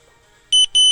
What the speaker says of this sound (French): Dès que le bip sonne, on est reparti.